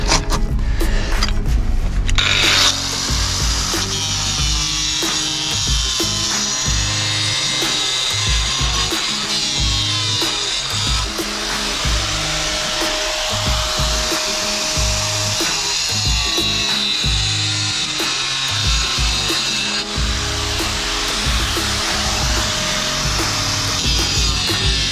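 A hand saw cuts through a fixed 4-inch drainage pipe in steady back-and-forth strokes, a continuous rasping scrape that carries on close and fairly loud for the whole stretch, with no talking.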